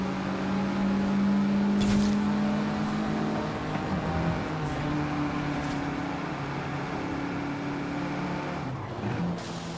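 Engine of an Italian exotic car in a racing-game update, a steady droning hum with sustained tonal whine that shifts pitch slightly, fairly loud and continuous, no talking.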